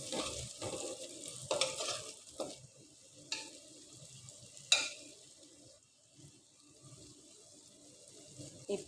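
Thick spice paste stir-fried in a pan for Chattogram-style khaissha curry, with soft steady sizzling broken by sharp scraping stirs and clanks, alone and close.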